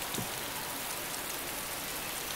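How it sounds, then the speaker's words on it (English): Steady rain falls in the DayZ video game, an even, close hiss of drops on surfaces with no other sounds over it. "well, it's raining."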